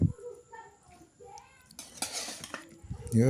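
Small river fish with gourd leaves frying in a pan, with scattered clinks of utensils against the pan and a soft sizzle, while voices talk quietly nearby.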